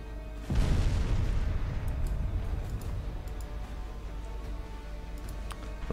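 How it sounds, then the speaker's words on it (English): Battlecruiser exploding in Ultimate Admiral Dreadnoughts, a sudden heavy boom followed by a long rumbling roar that slowly fades, with faint crackles and ticks on top, loud and alone. "That's one battlecruiser exploding."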